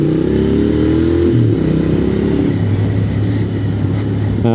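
A Royal Enfield Continental GT motorcycle engine drones loud and steady while riding, its pitch falling then holding as it shifts and cruises, with wind rush over it throughout.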